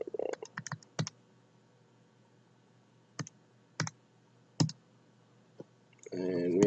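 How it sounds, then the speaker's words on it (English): Calculator buttons pressed while working out a compound interest sum: six or seven sharp, separate clicks at irregular intervals, close and fairly quiet, followed by a brief burst of speech at the end. "Type it into our calculator"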